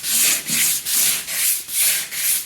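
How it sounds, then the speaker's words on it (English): Soft sanding pad rubs back and forth over body filler during drip edge rust repair on a Chevy Viking 60, six even rhythmic hissing strokes, close and loud with no talking. "I'm going to spend a few minutes with a soft sanding pad."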